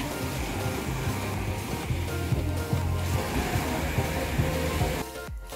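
Waves roll in at La Chiva beach, a steady wash of surf with repeated low thumps as water breaks, fairly close, under wind, with no voices.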